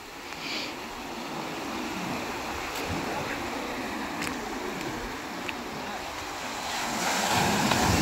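Big ocean waves break and wash ashore at Digha beach in a continuous roaring surf, mixed with gusty wind buffeting the microphone and swelling louder toward the end, with no speech.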